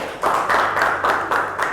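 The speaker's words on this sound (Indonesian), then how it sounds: "tepuk tangan buat teman kalian Dewi sama Darlin." A classroom group applauds fellow students after a presentation, steady rhythmic clapping with regular pulses, fairly close and without talk.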